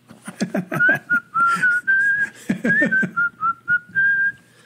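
A person whistles a lilting melody, close and clear, with quick bright notes giving way to longer held tones.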